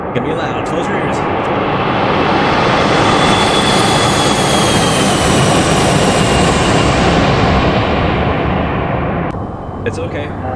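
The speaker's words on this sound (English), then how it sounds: "That was probably the loudest flyby in the history of flybys." A Challenger 650 business jet makes a loud, close flyby in the X-Plane flight simulator, a sustained roar that swells and fades slightly over about ten seconds.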